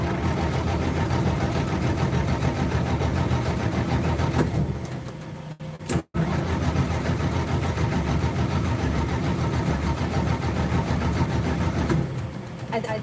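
A Chevrolet Trailblazer engine running very low on fuel cranks steadily and loudly without catching, one continuous starter grind broken by a brief dropout near the middle.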